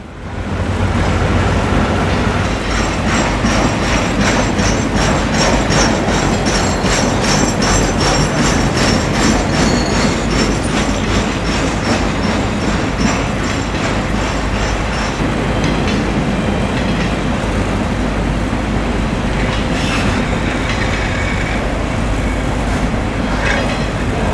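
A Conrail freight train labours upgrade at Southfork, its steady rumble and rhythmic wheel clatter loud and close throughout, with faint metallic squeals riding over the continuous din.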